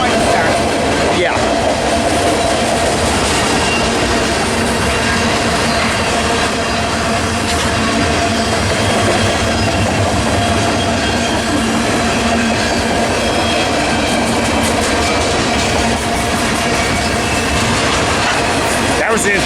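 A long freight train rolls past Commerce Fullerton in a steady, dense rumble with faint clickety-clack and rail noise. It stays loud and continuous throughout, with voices talking over it now and then.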